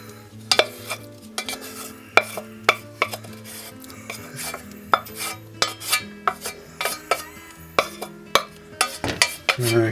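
A mushroom and onion mixture is tipped into a pan and stirred, with a steady run of sharp utensil scrapes and clinks against the pan over a low background hum, close and moderately loud.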